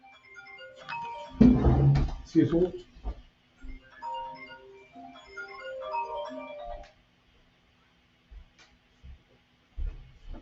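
A mobile phone ringtone chimes in a tonal melodic pattern during a cooking workshop, loud at first then lighter, with a person speaking briefly over it.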